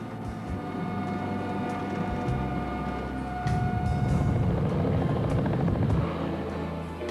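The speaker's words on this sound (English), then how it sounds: "it's the first time I've been in a helicopter" A loud helicopter drones steadily with a rapid rotor chop, swelling louder midway, heard close up with no talking.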